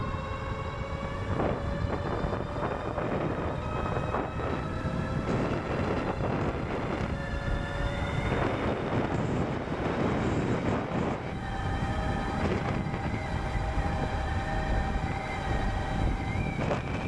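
Ariel Rider X Class 60v Performance Edition electric bike at top speed, a steady rushing wind roar with faint high motor whine tones running throughout, no voices.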